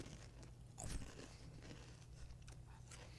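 A crunchy brownie-flavoured cookie snack is chewed close to the mic with steady crackling bites, and one louder crunch comes near the first second.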